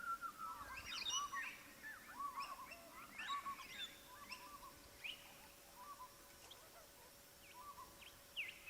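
Rosella parrots call at an outback waterhole in Australia, scattered bright chirps and whistled notes of several birds at middle distance over a steady low hum of background noise, with no voices.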